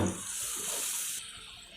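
Water pours steadily from a tap into a pot of boiled moong dal, a close, continuous splashing rush that cuts off partway, leaving a quieter hiss.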